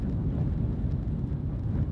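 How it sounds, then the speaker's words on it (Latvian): Steady wind buffets the microphone out on the ice during a winter ice-fishing trip in Finland, a continuous low rumble that stays loud and even for the whole stretch with no talk. "tas vējš tāds paliek"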